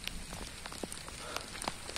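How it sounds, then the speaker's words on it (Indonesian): Light drizzle at a mountain campsite on Gunung Sindoro, Central Java, at about 2370 m elevation. Soft, steady patter of rain with scattered small drop ticks, faint and continuous, with no voices. "Untuk cuacanya masih gerimis"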